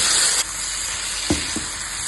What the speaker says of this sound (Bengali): রংটাও দারুণ এসেছে আর সবজিগুলো বেশ ভাজা ভাজা হয়ে গেছে।